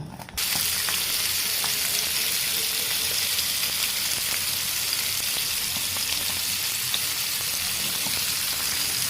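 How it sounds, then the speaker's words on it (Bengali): Marinated hilsa fish pieces fry in hot oil, a dense, loud, steady sizzle that runs unbroken for several seconds at close range, with no talking. "ইলিশ মাছগুলোকে গরম তেলে ভেজে নেব"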